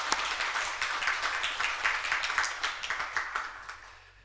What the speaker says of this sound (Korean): 격려 박수 한번 하겠습니다.